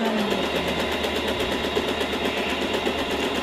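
A Usha Janome Allure DLX sewing machine starts stitching after its wheel is turned by hand, settling into a steady, fast rhythmic motor chatter of the needle, close and continuous without talk.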